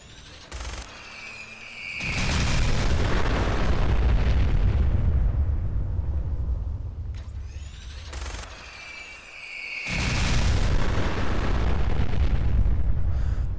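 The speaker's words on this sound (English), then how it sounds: "I would highly suggest firing short bursts like that, because this is devastating." Two short bursts of weapon fire in Fallout 4 crash out as dense, loud rattling volleys separated by a few seconds of quieter fading rumble.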